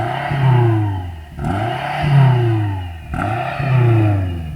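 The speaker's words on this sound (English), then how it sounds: "I'm going to rev this up first" BMW M5 engine revved repeatedly, three loud rising-and-falling blips in quick succession, close and strong with a deep throaty tone.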